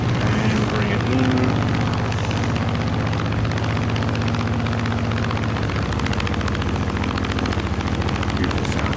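A simulated F6F Hellcat propeller engine in Microsoft Flight Simulator drones loudly and continuously with a deep, steady rumble and a buzzing tonal hum that shifts pitch slightly, close and unbroken throughout.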